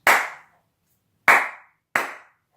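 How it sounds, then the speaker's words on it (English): Three sharp hand claps, close and loud, the first one alone, then a pause and two more in quicker succession, with silence between them. "Clapping my hands with glee to get going on this."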